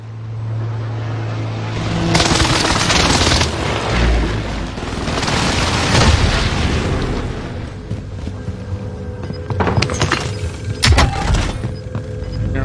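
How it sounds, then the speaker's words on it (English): Loud airstrike explosions in a battle royale video game, with rumbling booms that roll on for several seconds and then give way to sharper bursts and pops toward the end. "Allied precision airstrike incoming."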